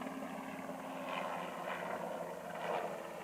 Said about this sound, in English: Helicopter flying right directly above us right now. That's the noise you might hear in the background.